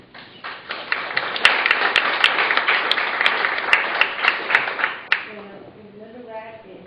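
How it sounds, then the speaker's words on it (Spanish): An audience at a university lecture applauds to welcome a history professor: dense, steady clapping lasting about five seconds with a few sharper claps standing out, then fading as a voice begins speaking. "un aplauso por favor"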